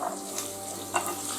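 Marinated chicken for butter chicken sizzling in a hot pan, a continuous close frying hiss with a couple of brief stirring scrapes, no voices.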